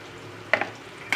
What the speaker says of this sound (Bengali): পরিমাণ মতো হলুদ গুঁড়ো আর পরিমাণ মতো লবণ দিয়ে কিছুক্ষণ বেজে নেব মশলাটা